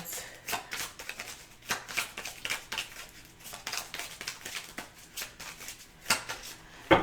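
Tarot cards riffled and shuffled in a steady run of crisp, papery bursts, then slapped down as cards are drawn, close and fairly loud with no talking.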